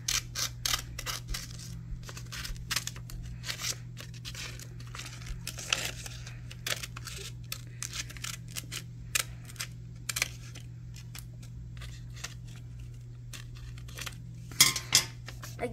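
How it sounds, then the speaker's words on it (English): Scissors cut through paper squares down the middle while making a paper fox, a string of quick close snips and light paper rustles over a steady low hum, with a louder clatter near the end. "You're gonna have to cut like in the middle"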